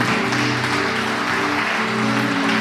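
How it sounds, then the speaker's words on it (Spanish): A church congregation applauds, a dense, loud, steady roar of clapping lasting the whole stretch, with low sustained tones and murmuring underneath. "Den un aplauso."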